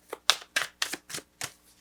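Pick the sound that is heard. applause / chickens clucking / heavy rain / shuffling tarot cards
shuffling tarot cards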